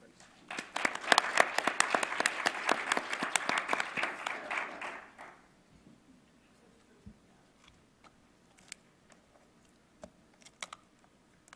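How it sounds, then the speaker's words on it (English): Audience applause for a keynote panel at a symposium, a dense burst of many hands clapping that fades out after about five seconds, leaving quiet room noise with a few scattered claps. "Let's give them another round of applause"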